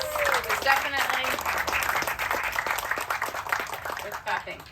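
An outdoor crowd claps at a park groundbreaking ceremony in Sarasota, Florida. The applause is lively and mid-distance, with a voice speaking over it at the start.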